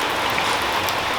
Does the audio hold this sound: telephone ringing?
no